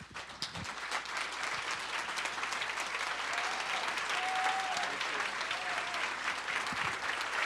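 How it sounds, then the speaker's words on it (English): Loud, sustained applause from a standing campus audience in Portland greeting Shaun King, a thick wash of many hands clapping at once, with a faint voice briefly audible partway through. "give a round of applause, and welcome Shaun King."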